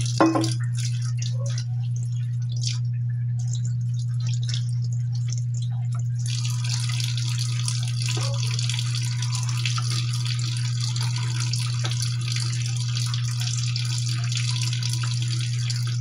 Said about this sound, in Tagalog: Ayan, lalagyan ng tubig.